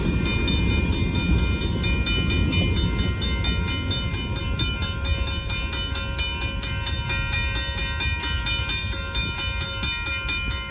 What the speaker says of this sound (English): Wow, that's a really long freight train.